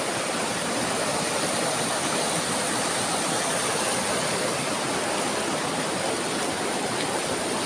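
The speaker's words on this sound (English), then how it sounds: "So that's a new waterfall" A newly formed waterfall in a river pours with a steady, dense roar of rushing water, loud and unbroken throughout with no talking.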